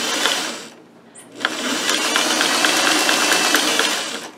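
A sewing machine stitches ribbon onto a crazy quilt block, a steady rapid mechanical whir with a brief pause near the start before running on continuously, close and clear.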